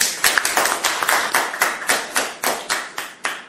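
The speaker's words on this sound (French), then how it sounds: "Des applaudissements des responsables des agents de santé pour saluer le paiement de la prime d'incitation à la performance PIP" Officials in charge of health workers in Libreville applaud, with rhythmic bursts of hand clapping repeating about every quarter second. The clapping stays steady, close and fairly loud, and no voices are heard.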